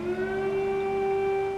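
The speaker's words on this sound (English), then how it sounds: "as emergency air raid sirens wailed." An emergency air raid siren wails over a city during the Russian invasion of Ukraine, a steady sustained tone with harmonics, loud and continuous without talk.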